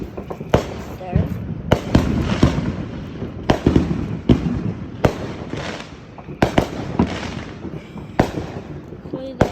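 Lighthouse firework set off on the Fourth of July, a rapid series of loud crackling bangs and pops bursting in irregular clusters at close range, with people talking and reacting underneath.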